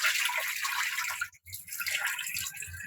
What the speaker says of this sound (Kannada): ನೀರು ಬಿಡ್ಕೊಂಡ್ರೆ ಅದನ್ನು ಬಿಸಿನೇ ಬರ್ತಿದೆ